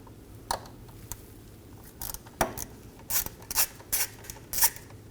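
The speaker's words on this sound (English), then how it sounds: "we're going to locate our T25 torque screw on top of the sensor and remove it as well" A ratchet works a T25 Torx screw off the rear ABS wheel speed sensor of a 2014-2023 Ford Transit Connect, with quiet bursts of clicking pawl ratcheting coming in short uneven runs.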